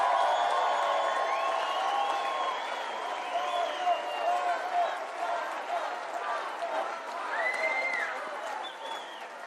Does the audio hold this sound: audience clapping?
yes